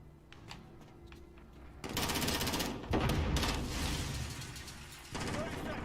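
In a zombie video game, an armed zombie enemy opens fire. Rapid bursts of gunfire erupt loudly after a quieter start, break off briefly, then resume, with chattering automatic shots over background game sounds.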